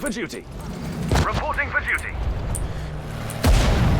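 Deep booming explosions rumble amid chaotic sound effects in the war game Sudden Strike 4, with a sharp heavy blast near the end; a voice talks over the action.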